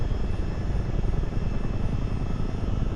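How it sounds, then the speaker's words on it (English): A CH47 Chinook twin-rotor helicopter in flight in Microsoft Flight Simulator, giving a steady, dense low rumble with constant rotor throb and engine whine, loud and unbroken throughout. "We will just have some fun with the helicopter then"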